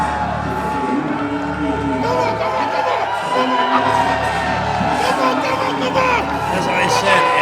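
A capacity crowd at a Pandemonium III pro wrestling event cheers and whoops loudly, a roaring sustained wall of shouting voices that swells in waves, with a commentator talking over the noise.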